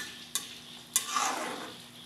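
Pork with sponge gourd and misua sautéed in a pan with very little oil: two sharp utensil clacks against the pan, then a short swelling sizzle as the ingredients are stirred, close by and with no talk.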